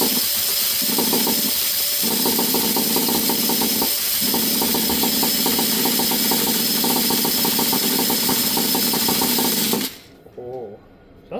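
A nitro-powered Traxxas T-Maxx RC truck engine running after a rebuild, a loud, buzzy high-revving drone with a steady rattle that holds for about ten seconds before stopping abruptly, leaving quiet background.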